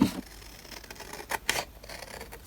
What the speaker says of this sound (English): I'm just going to trim around that with some scissors.